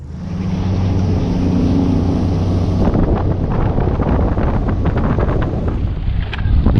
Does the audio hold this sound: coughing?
no